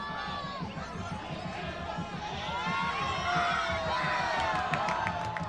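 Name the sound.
baseball crowd cheering as a fan catches a foul ball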